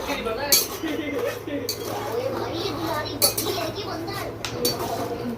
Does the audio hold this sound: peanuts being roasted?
yes